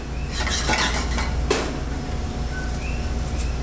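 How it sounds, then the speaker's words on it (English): Pine nuts and a splash of olive oil warm in a pan over low heat, with steady faint sizzling and a few scraping stirs and utensil clinks against the pan. "So turn your heat on low. You don't want these to burn. I'm actually going to add a little bit of olive oil here."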